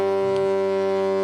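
A deep, steady foghorn blast, loud and sustained with a strong tonal drone, heard alone without talk.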